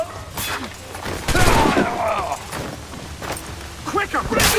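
Gunfire bursts and thuds in a chaotic Assassin's Creed 4 Black Flag fight, mixed with shouting voices and scuffling, loud and close.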